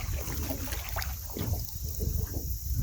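Canoe paddled backwards on water: soft splashes and swishing paddle strokes close by, over a constant wind rumble buffeting the microphone, with faint knocks against the hull.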